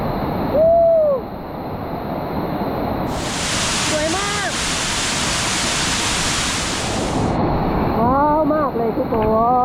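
A broad forest waterfall beside the Moei River, Karen State, roars continuously, swelling louder in the middle, with birds chirping and a voice speaking briefly over it.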